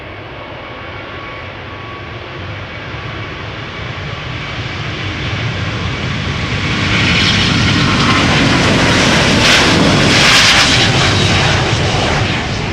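China Southern Airlines Airbus A350-900, three years old, departing Schiphol's Polderbaan for Guangzhou: a steady loud jet engine roar builds over the first seconds, then surges into full takeoff thrust with hissing, crackling high end and no talk.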